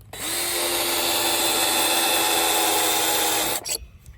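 A power drill bores a hole through a deck board in one steady, loud whirring run of a few seconds, then it cuts off abruptly with a short clatter after.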